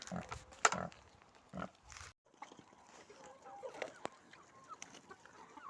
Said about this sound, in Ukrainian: а гарбузки їдять свиночки